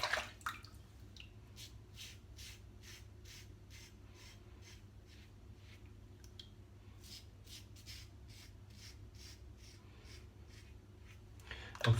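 Soft, rhythmic scraping strokes of a Muhle R41 safety razor cutting four days of head hair through shaving soap lather, quiet and close, with brief louder handling at the start and finish.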